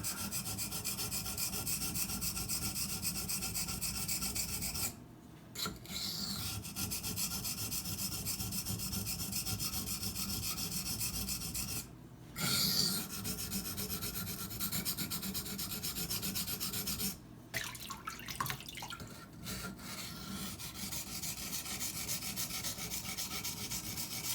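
Steady raspy grinding of a Cold Steel Demko AD-15 knife tip against a sharpener, continuous rubbing strokes broken by a few brief pauses, close and fairly loud with no talking.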